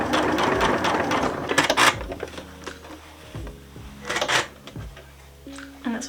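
A sewing machine stitches fabric along a drawn line for an appliqué heart cushion cover in short mechanical bursts, rapid needle clatter starting and stopping, close up, with faint talking in between.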